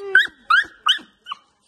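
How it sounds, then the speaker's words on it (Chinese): A small rescued puppy gives four short, high whimpering yelps in quick succession, close and clear, the last one softer and briefer, with no talking. "这是那个狗狗车救助的小毛孩"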